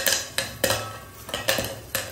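A plate wedged inside a cooking pot clatters and clanks against the metal in several sharp, separate knocks at an uneven pace, close and fairly loud, while making moong dal pakoras.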